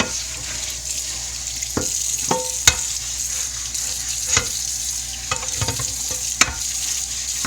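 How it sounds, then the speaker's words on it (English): Cast iron skillet being scrubbed after electrolysis rust removal, a continuous wet scraping and swishing with running water and occasional sharp clinks and knocks, close and steady with no talk. "So we're going to scrub it real good and see what happens."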